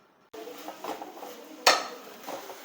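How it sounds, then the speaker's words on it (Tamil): A metal ladle scrapes and clinks in a pan while onions for spicy onion chutney are mashed and stirred, a steady soft scraping broken by one sharper clatter midway, close and moderately loud. "இப்படி கரண்டியால் அப்படியே நசுக்கி விட்டு நல்லா குலைவாக வதக்கி விட்டுருணும்"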